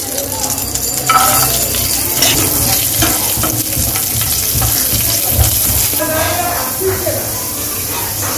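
Garlic crackles and sizzles in hot oil, a loud, continuous frying hiss with bursts of stirring and scraping close by, while someone talks over it.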